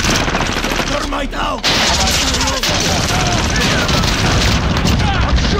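Dense, continuous game combat in Call of Duty: Modern Warfare multiplayer, where a thermite grenade is thrown amid loud, layered gunfire, bursts and booms that run steadily throughout, with voices shouting over the din.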